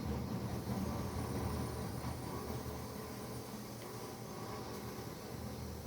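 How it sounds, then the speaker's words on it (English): A steam train in Red Dead Redemption 2, driven by Arthur Morgan, rumbles steadily with a dense low-end roar and hiss as it slows, running continuously with no voices. "let's stop the train"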